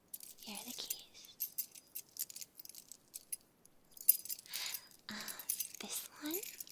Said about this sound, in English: So, here are the keys.